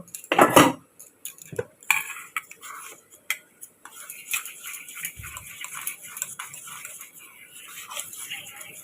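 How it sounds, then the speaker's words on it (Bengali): A utensil clatters and clinks against a bowl as eggs with chopped green chilli and salt are beaten, starting with a loud knock followed by quick, irregular tapping and scraping strokes, close by. "কাঁচা লঙ্কা কুচোনো, একটু নুন দিয়ে এটা ফেটে নেব।"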